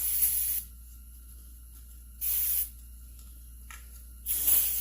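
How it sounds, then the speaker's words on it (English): Brake cleaner is sprayed onto a McCulloch SP81 chainsaw in three sharp hissing bursts separated by pauses, close and fairly loud against a quiet background hum. "I'd rather just clean it up, a little bit of brake cleaner."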